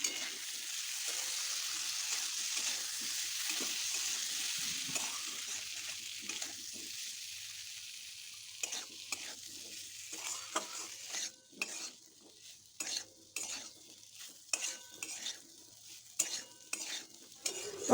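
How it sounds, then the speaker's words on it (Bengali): Pointed gourd and potato sauté with spices in a pan for a vegetarian paneer curry, with a soft continuous sizzle at first and then a run of clattering spoon-and-pan stirring strokes, fairly quiet and close. "মশলা দিয়ে আমার পটল আর আলুটাকে কষানো হয়ে গেছে"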